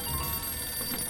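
A telephone rings in the Sam & Max Save the World Remastered adventure game, a steady electronic trill with sustained tones over a busy background of game sound.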